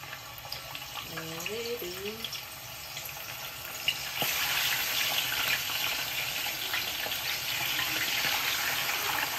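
Cooking oil heating in a pan ahead of frying fish gives a steady, fairly loud hiss and crackle that swells partway through, with a short faint voice early on.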